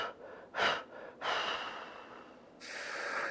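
Deep breaths are drawn and pushed out in rhythm during a yoga shoulder activation exercise, audible gasping inhales and long airy exhales up close.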